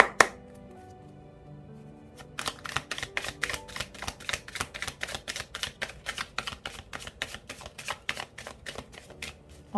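Tarot cards handled on a table: after a near-silent opening, a brisk, steady run of crisp paper flicks and slaps sounds close up and alone, with no talk.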